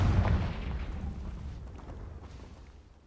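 A Confringo fire blast spell explodes in Hogwarts Legacy, a loud booming burst at the start that rumbles and fades away over a few seconds.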